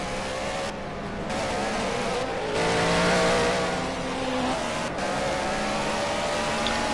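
A GT3 race car heads out onto its qualifying lap, its engine droning steadily at close range with a brief swell in revs partway through, no voices over it.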